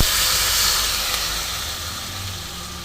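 Water splashed into frying masala in a wok, bursting into a loud steaming hiss that slowly fades as the sizzle settles, no talking.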